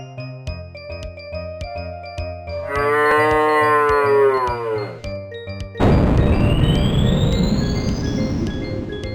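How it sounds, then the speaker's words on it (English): Cow mooing in the video game Guilty: a single loud, drawn-out moo over a looping electronic melody, followed by a crashing burst of noise with a rising synth sweep. "Did that cow moo on me?"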